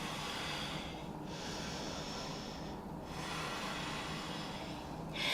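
Slow, close breaths are drawn in and out during a yoga pyramid pose, long airy hisses rising and falling in a steady rhythm with no talking.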